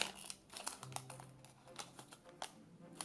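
Soft crinkling and crunching of a yeast packet being cut open with scissors, with a few sharp snips and rustles, close up and fairly quiet, with no talking.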